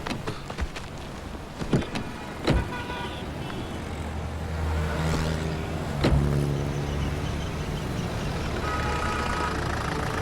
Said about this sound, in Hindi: गाड़ी स्टार्ट कीजिए।